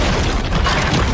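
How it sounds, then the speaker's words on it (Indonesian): Explosion sound effect, a thick, loud rumbling blast that fills the whole short moment with broad noise and no clear start or fade. "Tiba-tiba terjadi ledakan di tempat tersebut"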